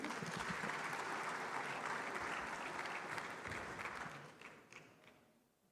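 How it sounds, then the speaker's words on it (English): Sustained audience applause fills a conference hall at an Afreximbank annual meeting, dense and steady before tapering off toward the end. "Please, a round of applause for him."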